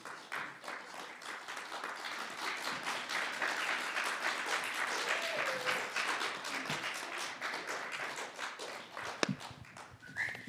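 An audience claps after a debate, a long, even wash of applause sustained for about ten seconds at moderate distance, with a few isolated louder claps toward the end and no speech.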